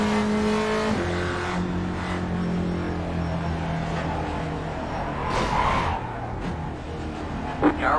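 A Spec Racer Ford race car in iRacing at Phoenix Raceway drones loudly and steadily with engine tone that shifts pitch as it lifts and accelerates, with a brief tyre squeal toward the end.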